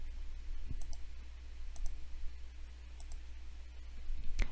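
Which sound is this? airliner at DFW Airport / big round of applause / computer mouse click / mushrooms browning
computer mouse click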